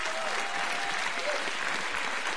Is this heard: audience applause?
yes